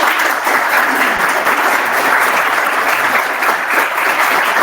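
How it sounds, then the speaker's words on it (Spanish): At a technical conference, an audience gives a presentation a dense, sustained round of clapping that stays loud and steady throughout, with no voices over it. "Un aplauso."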